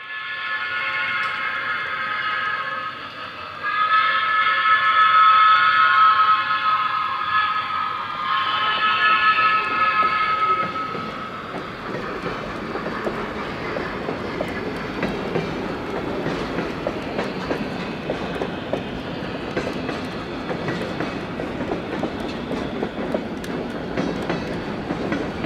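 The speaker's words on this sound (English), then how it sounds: "we hear the sounds of the whistle echoing through town as it heads west" A CP Rail freight train on the Kettle Valley Division heading west through Brookmere sounds its whistle in a loud, sustained blast that echoes through town, then gives way to a steady rolling rumble of railcars.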